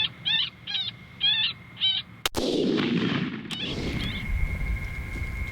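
A single loud, close gunshot rings out while hunting a red fox at night, preceded by a few repeated high calls and followed by a long fading echo and a second faint crack.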